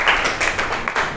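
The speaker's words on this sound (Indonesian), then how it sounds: "tepuk tangan untuk kita semua" A class of students claps hands together in a short burst of several quick, uneven claps, close and moderately loud, with no talking.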